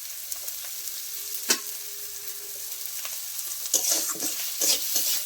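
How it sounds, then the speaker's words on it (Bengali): Pabda fish being stirred with turmeric and salt in a frying pan: a soft continuous sizzle of oil with several sharp scrapes and clacks of the spatula, growing busier toward the end. "এইরকমভাবে নেড়ে নেড়ে। তো এরপরে অল্প করে হলুদ দিয়ে নিতে হবে এতে"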